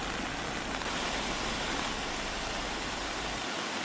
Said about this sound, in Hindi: नदी और नालों का पानी खतरे के निशान से ऊपर बह रहा है